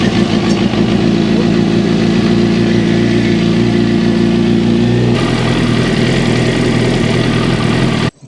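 A 2006 Suzuki GSXR600 motorcycle engine idling after a rectifier and stator replacement: a loud, close, steady mechanical drone whose tone shifts partway through before cutting off abruptly at the end.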